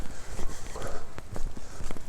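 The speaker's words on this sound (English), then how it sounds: "I'm going to stomp in some puddles because I'm 5 years old." Quick, irregular splashing footsteps slap through shallow water, close by and moderately loud, a short run of wet stomps.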